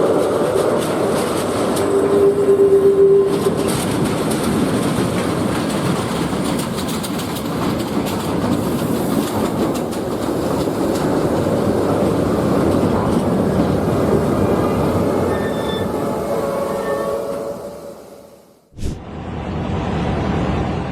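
A train moves along railway tracks during a derailment in a narrow tunnel, with steady loud rumbling and clickety-clack rolling noise that carries on for most of the time, then a sharp drop and a brief burst near the end.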